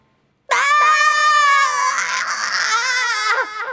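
A girl character in a visual novel video game lets out a long, loud, high-pitched scream that starts abruptly and holds for several seconds with a shaky, wavering tone, alone and close.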